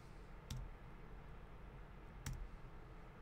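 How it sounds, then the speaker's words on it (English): Two sharp, isolated clicks about two seconds apart as the backslash key is pressed on a computer keyboard during photo editing, close and crisp over a quiet room hiss. "if we hit the backslash key on our keyboard"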